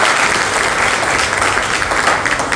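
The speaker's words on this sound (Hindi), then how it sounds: "हम ज़ोरदार तालियां बजाएंगे" A church congregation at an Easter resurrection service breaks into loud, dense applause, a steady wash of many hands clapping at once.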